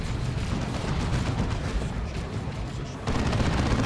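Gunfire in a Dawn of War 2 battle between Space Marines and Chaos Space Marines: a dense, unbroken barrage of shots and booms that surges louder near the end.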